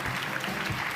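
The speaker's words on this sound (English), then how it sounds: "You might need a bit of applause." Audience applause at a European Mobility Week awards ceremony, a dense steady wash of many hands clapping together throughout, fairly loud and continuous with no talk over it.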